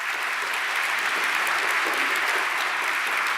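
Sustained applause from a conference audience at the opening of the Nobel Conference, a dense, even wash of many hands clapping at steady loudness throughout, with no voices standing out.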